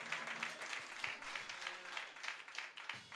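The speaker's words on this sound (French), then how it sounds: "Applaudis." Audience applause during a church pastor's installation ceremony, a steady wash of many hands clapping at moderate distance, continuous throughout with no clear voices over it.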